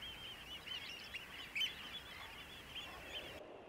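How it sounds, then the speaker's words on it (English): Eider ducks call from an estuary where they breed in hundreds, a faint distant chorus of soft crooning calls over a steady wash of background noise. "Eider ducks breed here in their hundreds."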